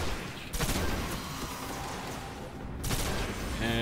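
Gunfire in the video game Destiny comes as dense, loud bursts of shots with booming tails, nearly continuous, with one brief lull before another volley.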